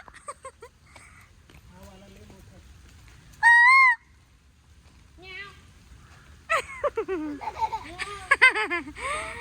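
A single loud, piercing peacock call rings out near Nashik, surrounded by people chatting and laughing nearby.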